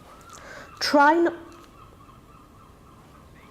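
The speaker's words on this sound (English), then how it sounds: "I'm sure I've just heard a seagull" A seagull gives a single loud, harsh, descending call about a second long, heard over quiet room tone, with a voice speaking briefly.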